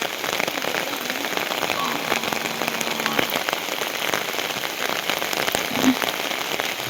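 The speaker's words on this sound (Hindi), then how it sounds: "और जबकि सुबह से लगातार बारिश ही थी" Heavy, continuous rain pours down in a hill village, a dense steady hiss of drops drumming on surfaces close by, loud and unbroken for the whole stretch with no clear talking.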